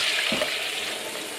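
Liquid stock pours into a pan of oiled sausages, bell pepper and carrots, giving a steady watery splash and soft sizzle close by for a brief moment.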